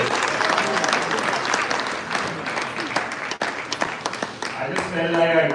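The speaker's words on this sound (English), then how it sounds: "Guys, can we have a round of applause for Marty's sister?" Wedding guests applauding as a crowd, a dense burst of clapping that thins briefly midway and then swells again, with a voice speaking over it and some cheering near the end.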